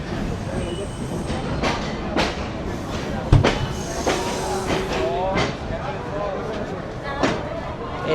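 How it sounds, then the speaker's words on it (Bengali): The Kolkata–Dhaka train pulls into Jessore station for a short halt. Its wheels rumble and squeal faintly beneath frequent nearby talk and the bustle of waiting passengers, with a few sharp knocks standing out. "এই চলে এলো আমাদের ট্রেন যশোরে।"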